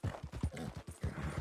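Hooves of a horse in the video game Red Dead Redemption 2 clip-clop in a quick, even rhythm, faint and heard alone.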